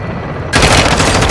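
Helicopter gunfire in Call of Duty Modern Warfare 2 bursts in suddenly, a loud rapid rattling stream of automatic shots that continues to the end, close and dominant over a quieter game background.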